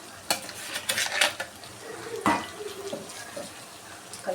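Bitter gourd curry is stirred in a pan after spice paste is added, making scraping, clinking spoon-on-metal strokes in an irregular rhythm, close and moderately loud, with faint watery kitchen noise underneath.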